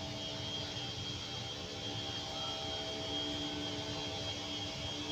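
A grass cutter runs close by alongside an old abandoned warehouse, giving a steady, loud motor whine with a broad buzzing hiss that holds evenly throughout with no break.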